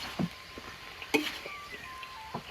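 Sliced shallots and green chilies frying in a pan in a village kitchen, a soft steady sizzle broken by a few sharp pops and utensil clinks, heard up close and faint.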